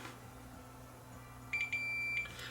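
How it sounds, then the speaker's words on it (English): A multimeter on continuity test across a vintage Sony MDR-W30 headphone driver gives two short high electronic beeps, the second held longer, faint and close over a quiet room hum. "it should beep if I haven't damaged it."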